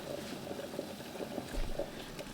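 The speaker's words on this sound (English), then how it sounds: "The water's boiling nicely" Faint bubbling of boiling pasta water in a pot, a soft continuous simmer with occasional small pops, quiet and close.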